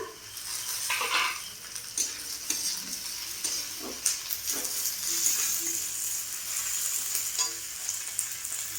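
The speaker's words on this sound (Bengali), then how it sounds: "এবার দেবো কেটে রাখা ক্যাপসিকামগুলো দিয়ে দিলাম।" Chopped capsicum stir-fried with onions in a pan for chili chicken, a steady close sizzle broken by repeated spatula scrapes and stirring clatter, with no talking.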